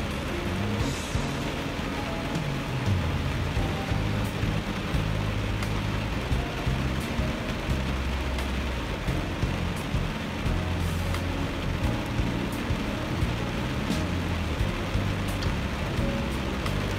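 Heavy rain falling in Thailand, a steady even hiss of downpour on surfaces lasting throughout, fairly close and uniform with no speech.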